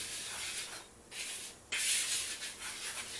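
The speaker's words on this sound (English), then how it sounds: "I'm gonna go ahead and mix this up together." A wire whisk stirs chocolate chip cookie batter in a bowl with close, hissing scrapes that come in uneven bursts, with a brief pause before a louder stretch of mixing.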